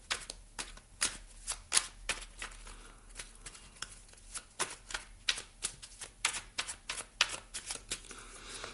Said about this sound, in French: je vais ajouter quand même une carte ici.